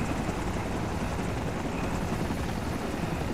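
Constant helicopter rotor and engine noise in the video game ArmA 2, steady and fairly faint, with no speech.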